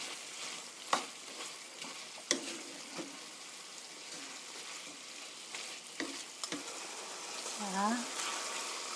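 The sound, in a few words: stir-frying chicken with tomatoes and onion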